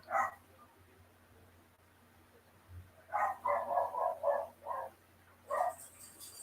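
A dog indoors barks in short bursts at visitors arriving, a single yelp early then a rapid run of barks and one more near the end, fairly close over a quiet room hum.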